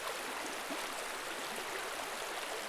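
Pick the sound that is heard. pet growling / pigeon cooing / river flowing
river flowing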